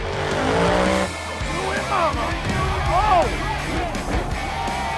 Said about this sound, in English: God damn, these monster trucks are dangerous.